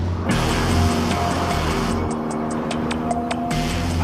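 Jaguar XJ220 sports car engine driven hard, a loud steady low roar filling the whole stretch with a brief dip midway and a few sharp pops like backfire crackle near the end.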